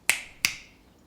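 Two crisp finger snaps, close and sharp, spaced about a third of a second apart, each with a short ringing tail in a quiet room.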